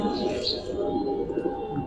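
Giribaz pigeons coo softly and repeatedly, their low murmuring calls close by and blended into a dense, steady background hum.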